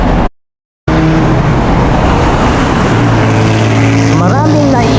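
Steady, dense road traffic rumbles near the unfinished MAA Flyover construction site, with engines droning continuously after a brief dropout near the start and a faint horn or siren-like tone rising toward the end.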